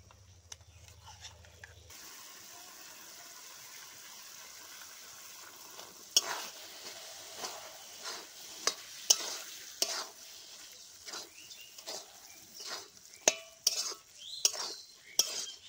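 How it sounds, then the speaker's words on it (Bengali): Shrimp curry with taro leaves and milk bubbles quietly in a pan as a metal spoon scrapes and clinks against it in irregular strokes, the knocks growing sharper toward the end. "দুধের স্বাদ দিয়ে 1-2 মিনিট ভালো করে নাড়াচাড়া করে নিলাম।"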